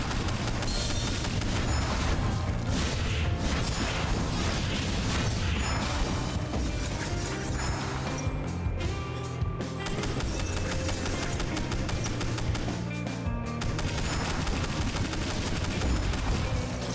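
A boss in the video game Ender Magnolia hurls fire in a relentless barrage, producing dense crackling bursts and rapid blasts layered over a constant roar, loud and unbroken throughout.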